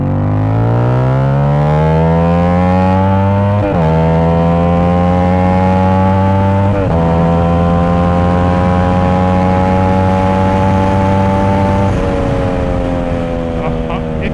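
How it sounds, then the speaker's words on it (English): A CFMOTO 450ss motorcycle with a freshly flashed ECU revs hard, its engine pitch climbing and dropping through several loud throttle sweeps, close and dominant throughout. "Do you hear how loud those pops are?"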